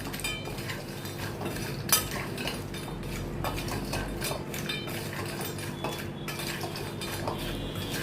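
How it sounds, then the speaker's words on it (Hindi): Masala being mixed into homemade crispy macaroni kurkure, with spoon and bowl clinks and rustling scrapes in a steady irregular rhythm, close and fairly quiet, with no voices. "और डाल के अच्छी तरह से मैं मिक्स करती हूँ"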